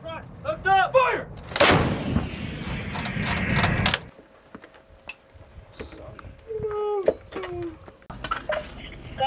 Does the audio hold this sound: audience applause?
no